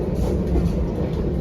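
The Ciremai passenger train runs on rails, heard from inside the car as a loud, continuous low rumble with rhythmic wheel clatter.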